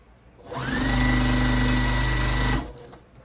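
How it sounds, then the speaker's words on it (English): A sewing machine runs a single steady, continuous stitching burst of about two seconds while chain piecing pinwheel star quilt blocks, starting and stopping cleanly, loud and close with no talking. "I will just go through and chain piece."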